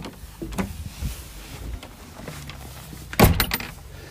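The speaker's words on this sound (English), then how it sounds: "Yep, that's the sound of my front door." A front door at home opens and shuts: a few scattered clicks and handle rattles, then one loud, close thump as it closes, with no talking.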